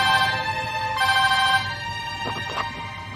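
A mobile phone rings with a repeating electronic tone in two loud bursts, close by, with faint background noise and no talk.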